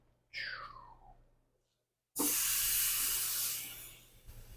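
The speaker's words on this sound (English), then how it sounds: "Beautiful sound, beautiful sear." A tomahawk steak hits a hot charcoal grill and sears with a loud, steady hiss that slowly fades, after an earlier brief sizzle and a pause.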